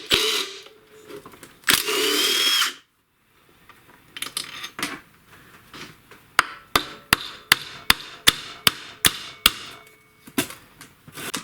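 A power tool works loose a head bolt on a Briggs & Stratton snowblower engine, with two long whirring bursts up close followed by a quick series of about a dozen sharp, evenly spaced impact knocks.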